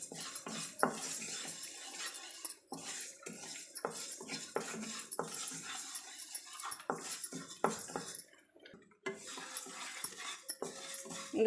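Moong dal dry-roasts in a pan over a medium flame, with faint, continuous scraping and clinking as it is stirred and tossed, in irregular bursts throughout.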